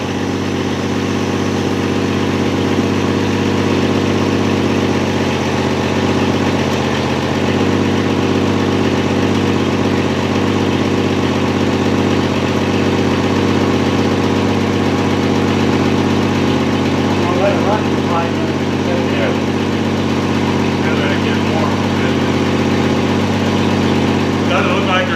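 A 1963 Rambler engine running on old gas just after starting, settling into a steady, loud, rumbling idle with an even hum throughout and no pauses.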